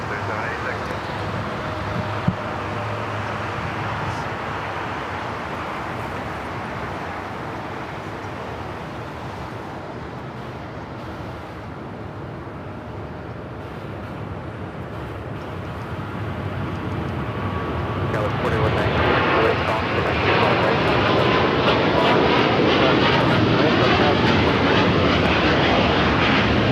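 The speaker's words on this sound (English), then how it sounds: "It's a 777-300ER now. Rocking and rolling down at runway 25 right." An EVA Air Boeing 777-300ER takes off on runway 25 right at LAX, its jet engine roar building steadily into a loud, broad rumble, with people talking throughout.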